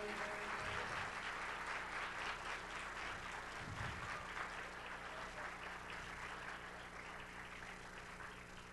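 Steady applause from an audience at a Farsi religious gathering celebrating Muslim unity, a dense continuous wash of many hands clapping that gradually fades slightly over several seconds, with no voices above it.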